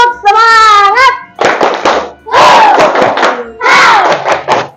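Classroom children doing a rhythmic clapping cheer, loud voices chanting in unison between bursts of sharp claps, close and energetic.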